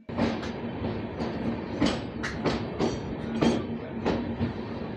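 Kaziranga Express passenger train rolling out of Kolkata station, a steady rumble with repeated rail-joint clacks and brief bursts of wheel noise throughout, heard from on board.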